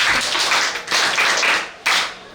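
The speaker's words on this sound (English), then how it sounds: "Clap for Damilola." An audience at a World Teachers' Day celebration claps for Damilola in bursts of dense, close applause that swell and break off twice, with no talking over them.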